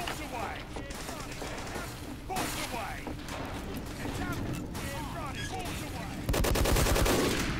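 Rapid gunfire in the game Team Fortress 2 rattles in quick mechanical bursts over a steady background hum, turning louder and denser near the end.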